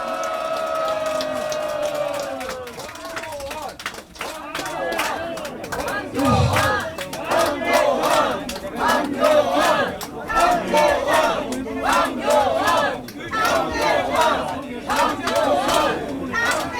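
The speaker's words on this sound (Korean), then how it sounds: "여러분, 힘찬 박수." Crowd at the opening of a party leader's election campaign office erupts in rhythmic cheering and chanting with clapping, loud and sustained after a brief voice at the start.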